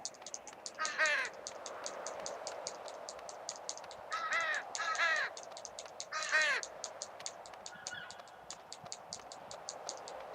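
Crow cawing in the GTA 5 video game, four or five short harsh bursts of repeated caws over a steady ticking hiss, fairly close and loud, no talk.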